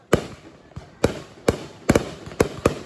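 Fireworks burst in a string of sharp, loud booms, about six reports at irregular intervals with echoing tails between them, close by and without speech.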